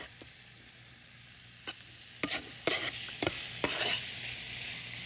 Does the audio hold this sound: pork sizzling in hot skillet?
yes